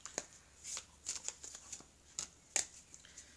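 An oracle card deck is shuffled at close range during a tarot-style reading, giving soft riffles and light flicks of cards in irregular bursts, quiet and without talking.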